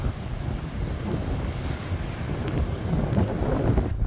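Wind buffets the microphone while waves wash and churn on an icy lake at Presque Isle State Park in Erie, a steady rough rumble with no voices.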